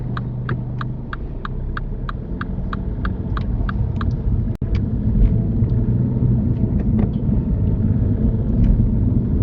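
Steady low rumble of a car driving along a road during a mock UK driving test, a series of short regular clicks like an indicator ticking early on, one sharp knock midway, no talk.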